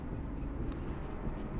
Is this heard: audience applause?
no